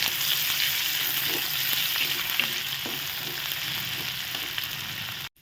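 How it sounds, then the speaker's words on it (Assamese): A steady, close sizzle of ginger garlic paste frying in hot oil, with faint stirring ticks underneath, continuous until it cuts off abruptly at the end. "এতিয়া মই এইখিনি কিছু সময় ভালদৰে ভাজি ল'ম।"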